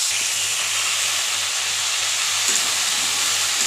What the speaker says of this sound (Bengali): শাকটা দিয়ে একটু নেড়ে ভেজে তারপরে জল দিয়ে দেবো